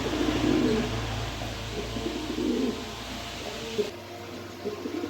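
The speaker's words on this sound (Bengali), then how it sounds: "এখানে এক পেয়ার মুসালদম কবুতর আছে" A pair of big Musaldam pigeons cooing up close, soft low throaty coos repeating in short rolling phrases, with quieter background bird sounds and no talking.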